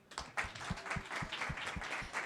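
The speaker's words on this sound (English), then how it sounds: "Can we give one more round of applause to the patient panel?" A conference audience claps for a patient panel, a soft, fairly distant patter of applause with a few more pronounced claps, steady for a couple of seconds.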